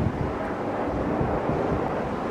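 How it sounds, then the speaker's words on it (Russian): A helicopter flying away makes a steady, broad whooshing rumble with wind noise, holding at an even level for a couple of seconds. "Так, вертолет улетел."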